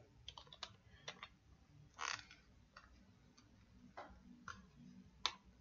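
Irregular clicks of keys being typed on a computer keyboard to enter a command for an optical flow sensor on an APM 2.6 flight controller, a few quick close taps and pauses, quiet, without speech.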